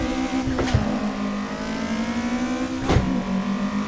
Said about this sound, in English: So I like to start out with a little burnout.